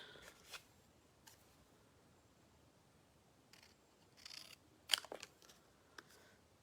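Scissors snip out a paper shape in a quiet crafting space, giving a few short, faint clipping bursts spaced irregularly, with near-silence between them.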